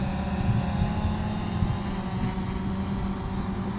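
A DJI Phantom drone hovers and slowly backs up, its steady propeller whine continuous and fairly close throughout, with no voices.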